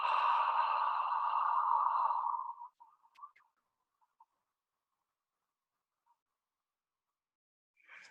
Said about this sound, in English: exhale out your mouth from the back of the throat with a ha sound